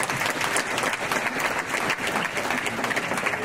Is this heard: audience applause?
yes